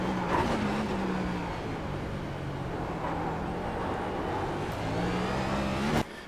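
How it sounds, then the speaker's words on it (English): A NextGen stock car in iRacing on the Chicago Street course, its engine held at the rev limiter: a steady, loud, buzzing drone with a bouncing pitch that dips and climbs again, then is cut off sharply near the end. "Right here, you're essentially getting to the rev limiter to 2 to brake in just over the hill."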